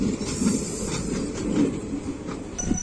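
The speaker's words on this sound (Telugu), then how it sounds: "సో ఫైనలీ మన ట్రైన్ వచ్చింది." Train at a railway station platform, a steady low rumble with faint rolling clatter and a brief high squeal or hiss near the end.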